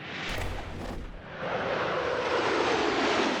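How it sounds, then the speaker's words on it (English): Jet fighters streaking across the sky at China's largest air show, a loud roaring engine rush with a sharp burst early, then a broad sustained jet roar swelling as the aircraft passes. "Jet fighters streaking across the skies at China's largest air show"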